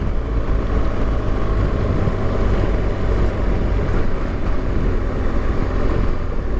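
A BMW R1200GS Rallye motorcycle rides along a road, its engine a steady loud drone blended with rushing wind roar that stays constant throughout, with no talking.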